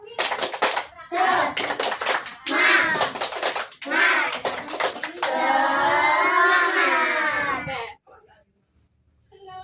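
A class of children performs the tepuk semangat chant, rhythmic clusters of hand claps alternating with loud sung calls, then a long shouted chorus that cuts off into near silence.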